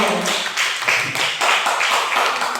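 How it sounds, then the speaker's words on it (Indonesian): Group of participants at a school teachers' session clap together in a short, moderately loud round of applause with no talking. "Tepuk tangan untuk kita semua."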